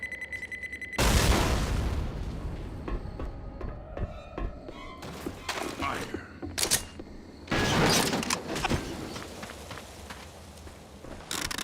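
A thrown grenade detonates in Left 4 Dead (Xbox 360): a sudden loud boom bursts in, then thuds, scattered gunfire-like pops and another heavy blast follow amid chaotic game noise.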